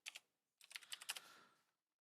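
A search is typed on a computer keyboard, two quick keystrokes followed by a short burst of rapid clicking, close and alone.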